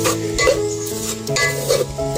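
Besan gram flour being stirred and roasted in a pan, with a spoon scraping and clinking against the metal in repeated strokes over a soft sizzle, close and moderately loud.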